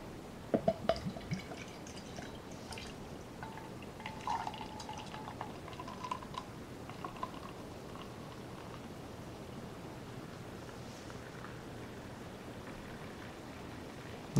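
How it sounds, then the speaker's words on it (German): Glückauf GB Prime pilsner-style beer is poured into a glass, a faint, steady liquid trickle with a few small splashes and drips early on, otherwise quiet. "Und dann rein ins Glas."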